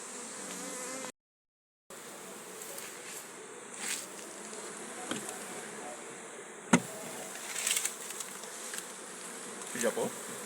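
Honey bees buzz steadily around an open beehive during a hive inspection in Jamaica, a continuous close insect drone with a few soft knocks and handling clicks, briefly cut out near the start.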